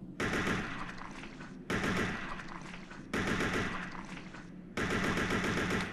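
Gunfire aimed at a tentacle in the game Resident Evil: Code Veronica, four loud, evenly spaced shots, each followed by a decaying echo.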